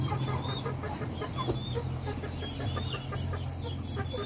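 Chickens cluck steadily at dawn in a rural yard, a dense, continuous chorus close by with scattered sharper calls from a few birds over a constant background hum.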